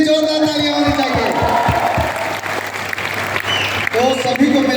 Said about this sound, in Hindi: एक बार राजू दा के लिए भी जोरदार तालियां होनी चाहिए।